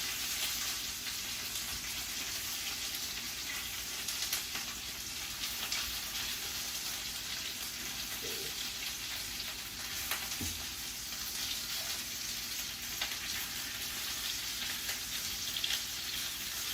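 Meatballs fry and brown in a pan over medium heat, giving a steady, close, dense sizzle that runs unbroken throughout, with a few faint clicks and light knocks here and there.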